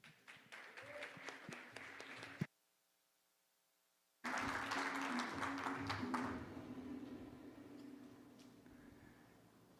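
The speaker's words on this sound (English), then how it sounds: "round of applause for Luis Hernandez" Applause from a pitch-event audience as a startup founder is introduced; dense clapping fills the room, breaks off into near silence for about two seconds, then returns loud and sustained.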